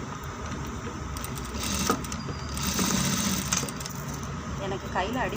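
Sewing machine stitching a blouse at slow speed, a rapid mechanical chatter with uneven bursts, close and steady, with a voice speaking over it.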